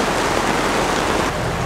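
Heavy rain pours steadily onto a sailboat at sea, a dense close hiss of drops drumming on the deck and hull, with no voices.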